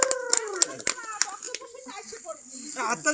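Sharp hand claps from a crowd at a village wedding in Bangladesh, a burst of scattered claps early on, then fading into chatter and children's voices.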